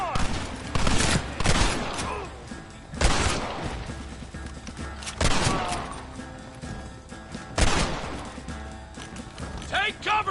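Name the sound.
gunfire in video game Red Dead Redemption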